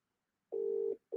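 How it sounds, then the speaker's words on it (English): A telephone ringback tone heard while calling someone, a steady, faint single-pitch tone that starts, stops, and starts again. "let's call Doug and see if he answers"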